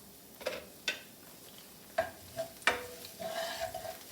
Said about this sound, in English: we're going to saute that in the oil for just about 1 minute